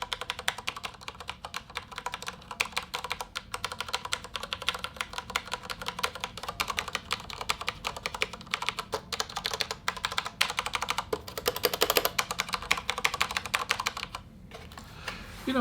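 Continuous rapid typing on a Corsair K63 wireless gaming keyboard with Cherry MX Red switches: dense, close clacking keys that keep up a steady pace for a long stretch, then briefly trail off, with no voices.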